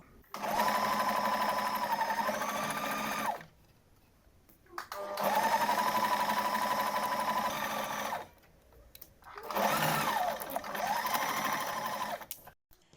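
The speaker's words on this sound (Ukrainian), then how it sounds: "Роблю строчку по верхньому краю." A sewing machine stitches along the top edge of a collar in three loud, steady runs of close mechanical whirring, each several seconds long, with short quiet pauses between them.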